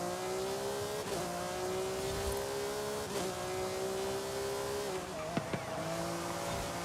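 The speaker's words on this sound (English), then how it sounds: "Is that what my car sounds like? Blame Forza, not me." A car in Forza Horizon 5 holds a steady high engine note that dips at gear changes, with tire squeal near the end; loud and continuous, no talking.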